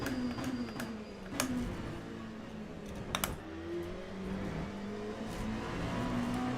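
LMP2 race car engine in the sim racing game Le Mans Ultimate, a steady drone whose pitch rises and falls through gear changes, with sharp keyboard-like clicks and taps scattered over the top.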